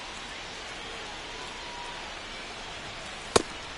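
Steady rain falls on a baseball field in a video game, a continuous even hiss throughout, broken by a single sharp click or tap near the end.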